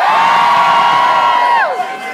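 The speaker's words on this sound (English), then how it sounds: "make some noise." A concert audience at a show in a small pub venue erupts in loud cheering and shrill whoops, holding steady before tapering off at the end.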